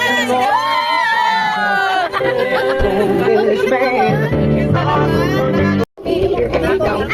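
A lively group of people inside a limousine in Riyadh shouts and cheers together up close, loud voices overlapping continuously, with a brief break near the end.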